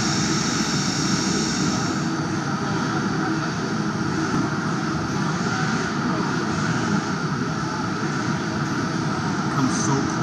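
A CNC machine runs at the EMO 2017 trade show, chips flying near its spindle, giving a steady, dense mechanical whir with broad noise that holds evenly throughout.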